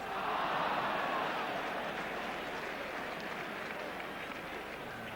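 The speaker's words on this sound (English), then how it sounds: "Gets applause this time." Football crowd at a 1986 West Ham match applauding one of the home players, a steady, dense wash of distant clapping and murmur filling the stadium without a break.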